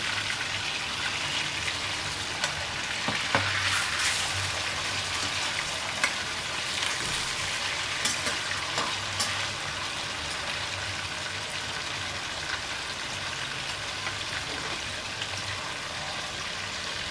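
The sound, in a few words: frying fish pieces in a pan for fish curry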